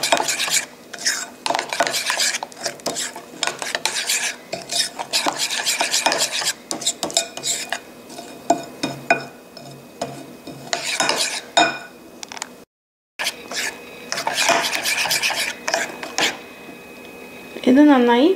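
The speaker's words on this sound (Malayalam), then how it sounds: "എന്നിട്ട് ഇതെല്ലാം നന്നായി ഒന്ന് മിക്സ് ചെയ്തെടുക്കുക." A spoon scrapes and clinks against a bowl while sweet batter mixed with baking powder is stirred, in repeated bursts of rhythmic scraping with short pauses, close up, with someone talking in between.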